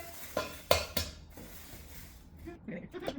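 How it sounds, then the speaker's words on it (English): Six eggs are cracked into a bowl during birthday cake baking, with three quick knocks against the rim close by, followed by soft clinks of dishes. Faint voices come in at the end. "We're cracking 6 eggs"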